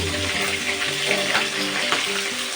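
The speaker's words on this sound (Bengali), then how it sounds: "মাছটা আমার ভাজা ভাজা হয়ে গেছে দেখতেই পাচ্ছ" Pieces of rohu fish fry in a hot wok, giving a steady, close, dense sizzle that stays level throughout with no voices.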